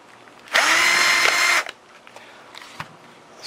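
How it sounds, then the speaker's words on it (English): A power drill drives tight screws into a Phlatprinter 3 gantry in one loud, steady whirring burst of about a second, followed by a few light clicks and handling taps. "The screws are a little tight, so you might have to get them started with this drill."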